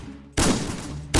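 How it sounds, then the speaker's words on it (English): A revolver fires in the Roblox game Wild Revolvers, making a sudden loud, booming blast with a ringing tail, followed by the abrupt start of another shot at the end. "Shot him dead! Right where he stood!"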